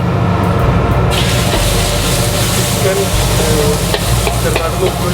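Small pieces of boneless chicken fry in hot oil with a loud, continuous bubbling sizzle close by, stirred now and then, while people talk faintly in the background.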